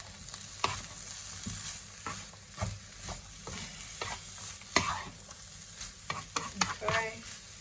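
Plant-based chilli mince stirred in a frying pan: repeated scraping, knocking strokes at an uneven pace over a soft, constant sizzle, fairly quiet and close, with no speech.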